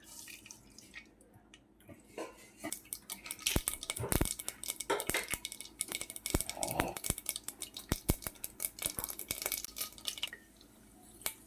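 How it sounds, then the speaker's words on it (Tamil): Mustard seeds crackle in hot oil in a home kitchen, where a chenanguni kuzhambu is being made. Rapid sharp pops come close and fairly loud in dense bursts, with some utensil clinks among them. "எண்ணெய் காஞ்சிடுச்சு, நான் கடுகு போடுறேன்."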